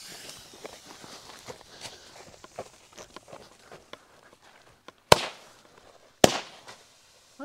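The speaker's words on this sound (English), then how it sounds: "Shoots silver fish." A 200 gram firework cake fires silver fish shots, with soft crackling and pattering followed by two sharp, loud bangs, then quieter sounds continuing between them.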